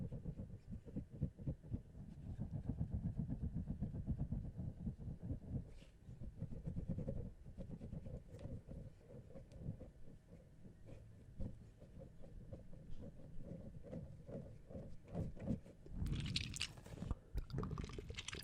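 An ASMR trigger object worked close up to mimic a train, giving a steady run of soft rapid squishy, chugging pulses that go on throughout, with a brighter hissing burst near the end.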